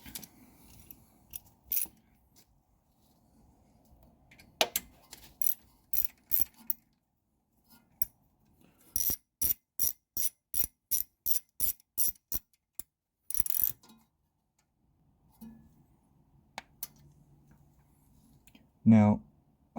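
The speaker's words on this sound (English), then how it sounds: "and then we'll continue with the wrench." A ratchet wrench clicks in quick bursts while snugging the bolt of a rear wheel speed sensor on a 2001 Jaguar XK8, sharp close metallic ticks in several runs separated by quiet pauses, with faint handling noises between.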